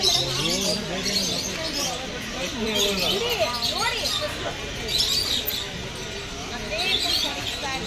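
Lovebirds in an enclosure at Mysore Zoo chirp and twitter in quick repeated bursts, fairly close, while a person talks over them throughout.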